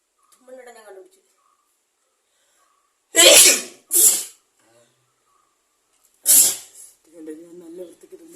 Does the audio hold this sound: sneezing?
yes